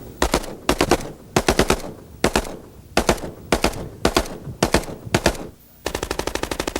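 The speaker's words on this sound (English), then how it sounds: "Shooting it from the hip, however, was not the best way to lay down accurate fire." Hungarian AMD variant of the AK-47 rifle with folding stock and forward hand grip, fired from the hip in loud, close bursts of three to four rapid shots, ending in a longer sustained automatic burst, with no talk.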